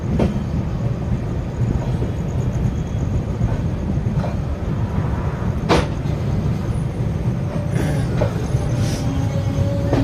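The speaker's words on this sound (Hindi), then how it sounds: "अभी अपनी ट्रेन निकल रही है जफराबाद जंक्शन रेलवे स्टेशन से" The Marudhar Express with its LHB coaches rolls slowly out of Zafarabad Junction in a steady, close rumble of wheels, broken by occasional clanks and thin squeals.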